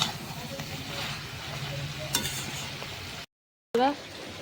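Tomatoes and green chilies sautéing with ground spices and a splash of water in a pan give a soft, low sizzle with light stirring, heard close but quietly before a brief silent gap.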